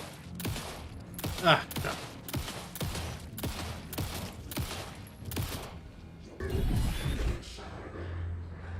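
Rapid bursts of gunfire in the horror game Alan Wake 2, a string of sharp evenly spaced shots followed by a heavier crash, with a man's brief exclamations over them.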